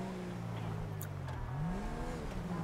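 A car engine in the video game GTA V revs up and accelerates to overtake, producing a steady, moderately distant drone whose pitch climbs through the clip.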